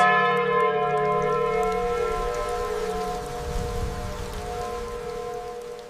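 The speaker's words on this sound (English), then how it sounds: "A single bell tolls." One deep bell tolls once and its strike rings out, then decays slowly into a long humming resonance with steady rain-like hiss underneath and no voices.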